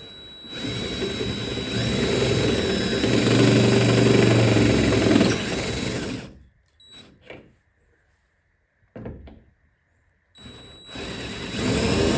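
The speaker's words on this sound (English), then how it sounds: "I'm just letting the drill bit do the work." Power drill boring a hole through the body of a 1970 Plymouth Cuda 426 Hemi for a side mirror, a loud steady whir for about six seconds with no pressure applied, then quiet with brief bursts and a restart near the end.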